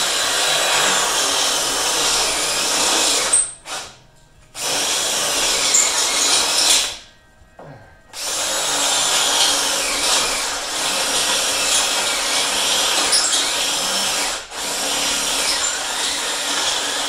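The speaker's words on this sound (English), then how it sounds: "I'm going to grab the drill and I'll bore that one out a tiny bit" A power drill whines loudly and continuously, briefly stopping twice before starting again, with rough grinding as it bores out a hole up close on a 1994 Ford F-350 diesel dually.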